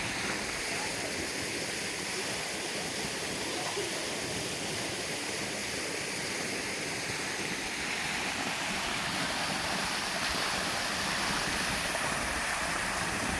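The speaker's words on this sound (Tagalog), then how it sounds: "Yan sa binabagsakan ng tubig." Water from a small waterfall in a forest-style pool at Little Baguio, San Vicente, Palawan, rushing in a steady, dense roar that stays loud and unbroken throughout.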